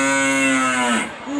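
A single long, low moo from a cow, loud and close, tapering off, then a brief start of another call.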